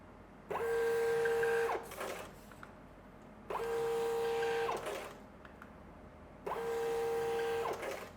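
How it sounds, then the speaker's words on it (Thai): A BIXOLON SRP-330II thermal receipt printer prints three times, each a short whirring burst of just over a second, separated by quiet pauses. "ในส่วนของเสียงตอนที่เราพิมพ์นะครับก็ค่อนข้างที่จะเงียบด้วย"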